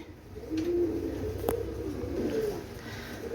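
Pigeons at a pigeon market, including teddy breeds, cooing in a few soft low calls over steady crowd hubbub, with one sharp click midway, moderately distant.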